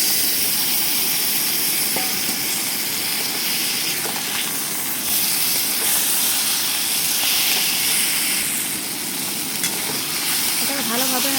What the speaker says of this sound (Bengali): চিকেন ভাজতে ভাজতে রান্না হয়ে যাবে।